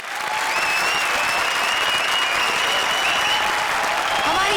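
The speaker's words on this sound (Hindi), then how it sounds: "हमारी चारों भूतिया जोड़ीज के लिए जोरदार तालियां।" Studio audience applause at a comedy show stage, a loud, dense and steady wash of clapping and crowd noise that fills the whole stretch without pause.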